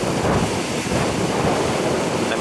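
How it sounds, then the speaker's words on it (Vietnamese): Rough sea at the coast near Hòn Bà sends waves crashing and churning under gusting wind, a dense, continuous roar with heavy wind buffeting on the microphone and no voices. "hôm nay thì biển nó cũng khá là động nha các bạn"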